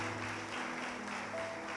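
A church congregation claps during a Spanish-language service, a short burst of faint, blended applause with a low sustained hum beneath it.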